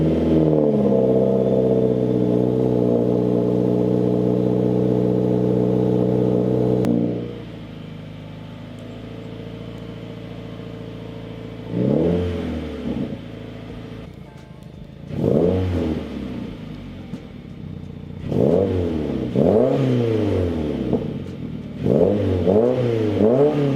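Subaru WRX Stage 2+ with a new exhaust, idling with a deep steady drone before a series of sharp throttle blips that rise and fall, loud and close outdoors in the snow.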